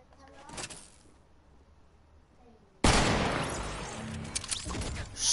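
A sniper rifle shot in the Fortnite video game, a sudden loud crack followed by a ringing, booming tail after a quieter stretch of game ambience and brief voices.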